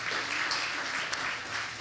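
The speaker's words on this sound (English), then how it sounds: "Let's give a round of applause and of thanksgiving to the team" Audience at a church conference session giving a round of applause for the team, a steady, dense clapping that stays even and fairly loud throughout.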